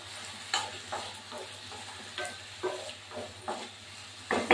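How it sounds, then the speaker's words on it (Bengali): Potato pieces fry in a pan with salt and turmeric, giving a steady low sizzle broken by repeated close scraping clatters of a spatula at an uneven rhythm. "আলুটা আমি এখন ভাজবো নুন হলুদ দিয়ে"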